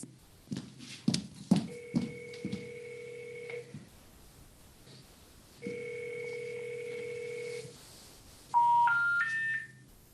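A telephone number is dialed in a theatre production, with long sustained dial-style tones, a pause, then a rising three-tone sequence like an unrecognized-number signal, set after some clattering handling noises.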